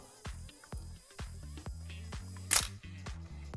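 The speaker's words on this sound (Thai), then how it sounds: "อันนี้ทำงาน ขึ้นทัมเมอร์ก่อนแล้วค่อยขึ้นชัตเตอร์" Miranda film SLR camera being worked by hand: a series of sharp mechanical clicks from the film advance and shutter cocking, ending in one louder shutter release, close up with no talking.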